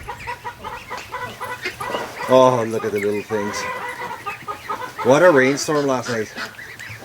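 Muscovy ducklings and ducks peep and call near a feeder after a night rainstorm, a steady chatter of calls under someone talking close by.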